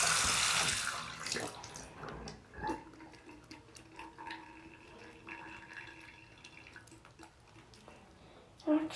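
Tap water runs into a bathroom sink for face washing, a loud steady gush in the first second that then eases into quieter trickling and splashing as hands move through the flow, with a few sharp knocks and handling noises.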